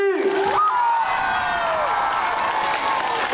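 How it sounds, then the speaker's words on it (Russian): A crowd at a live concert bursts into applause and cheering as a singer's held note slides down and fades, clapping carrying on loudly and evenly after the voice drops away. "А вот теперь все аплодисменты."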